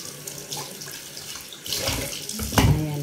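Insulin plant leaves rinsed under a running kitchen tap, a steady close splash of water that swells louder and fuller toward the end as the flow hits the leaves and sink.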